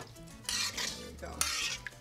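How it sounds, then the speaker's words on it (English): Rice cooking in a pot with vegetable broth and water is stirred with a utensil, two short bursts of scraping and clinking against the pot, close and fairly quiet. "And now we move our rice."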